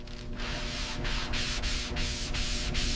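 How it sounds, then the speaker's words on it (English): Steady, close sanding of body filler on the bodywork of a rusty Buick Skylark, a continuous abrasive rasp with regular short breaks as the stroke changes direction, loud and alone. "Hours of sanding."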